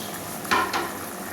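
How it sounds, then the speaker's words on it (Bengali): Fish curry gravy bubbling in a pot, a steady soft simmering hiss broken by two quick stirring scrapes close by. "ঝোলটা ফুটতে শুরু করেছে"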